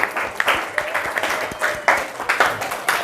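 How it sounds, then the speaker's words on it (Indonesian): Clapping for a class 10 RPL group at the close of a school session, uneven and fairly sparse with distinct individual claps rising and falling over a few seconds. "Tepuk tangannya untuk kelas 10 RPL"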